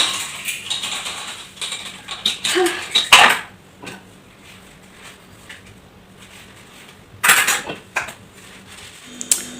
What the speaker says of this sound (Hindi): मैंने बर्तन धुल लिया है